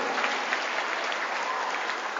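A church congregation claps together at a Batak-language Christmas service in Cengkareng, a dense, steady wash of many hands sustained throughout with no pauses.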